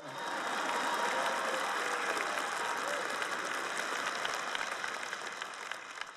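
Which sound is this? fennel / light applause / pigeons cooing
light applause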